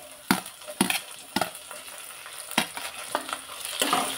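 Tomato frying in a masala pan for chana masala, stirred with a spoon that scrapes in about half a dozen distinct strokes over a steady close sizzle.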